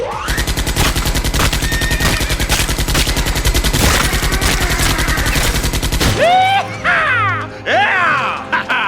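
Rapid, loud Gatling gun fire from the Western video game GUN hammers in an unbroken stream for about six seconds, then gives way to ricochets, whooshes and other scattered game sounds.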